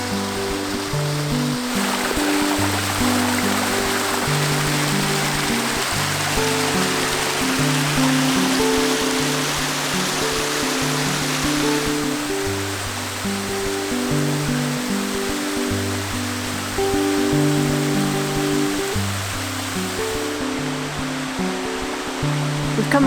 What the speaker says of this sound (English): That's another waterfall, that is.